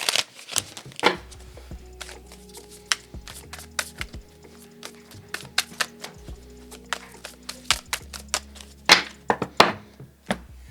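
A tarot deck shuffled and cut by hand at close range, with irregular papery riffles and soft card slaps running throughout over a low steady hum.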